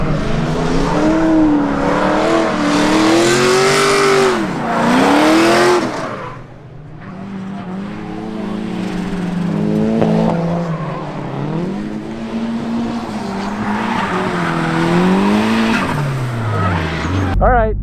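A Nissan S13 drift car with raised boost run aggressively on solo drift runs, engine revving up and down in repeated sweeping pulls with tire squeal, loud and close, with a brief lull midway.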